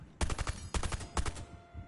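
Three loud bursts of rapid video game gunfire, each a quick cluster of sharp shots, spaced about half a second apart with quiet gaps between.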